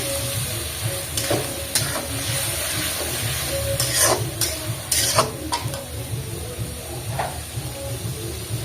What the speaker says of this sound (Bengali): এবার মশলাটা সুন্দর করে কষাই নিচ্ছি।